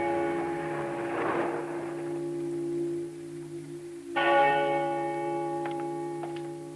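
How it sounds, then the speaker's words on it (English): A peal of church bells rings out loud and near, steady sustained tones with a fresh strike and a burst of brighter bell overtones partway through, a few lighter chimes following. "It means a peal of bells."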